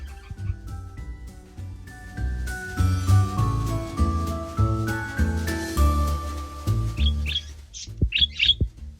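A pet parakeet nesting on her eggs chirps in short, sharp, close tweets near the end, after a stretch of tonal sounds with a music-like pattern.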